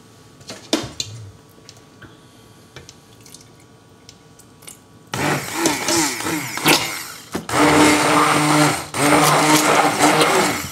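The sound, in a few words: blender mixing chestnut soup into a velouté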